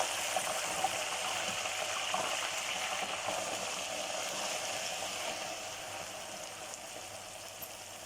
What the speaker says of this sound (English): As you can see, the onions now, they're getting fried